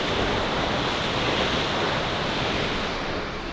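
A large waterfall in Japan crashes down with force, a loud, dense, continuous roar that holds steady throughout without any voices.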